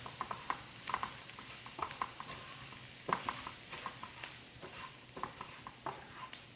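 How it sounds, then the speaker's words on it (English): Rice is stirred into onion and pepper juices in a pan for red beans and rice, giving a faint, quick, rhythmic series of scraping and wet stirring strokes over a low sizzle. "Now I'm going to throw all my rice in. We're just going to stir that around."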